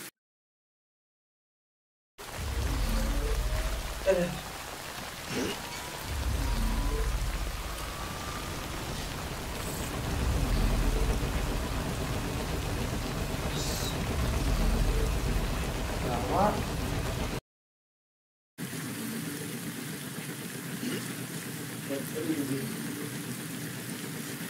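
Steady rain falls throughout, a dense continuous hiss with occasional low rumbles, apparently from a storm, and a brief cut to silence near the end.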